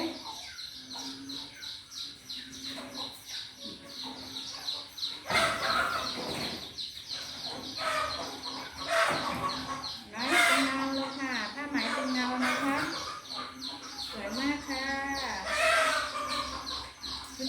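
Baby chicks peep in a steady stream of high, thin chirps, fairly close, over a low background hum with a few louder bursts.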